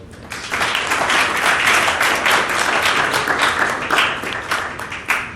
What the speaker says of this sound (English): I'd like to just provide a warm round of applause for our panelists today.